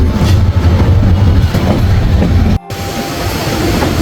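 Porjatok Express train at Chittagong railway station, a loud, close, continuous rumble of rolling wheels and rattling carriages with a rhythmic clatter and no pause.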